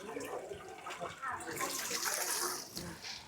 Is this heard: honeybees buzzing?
no